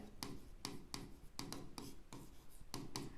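Pen or marker writing out a maths solution to a pair of simultaneous linear equations, heard as close, steady scratchy strokes in quick bursts with short pauses between them, with no talking.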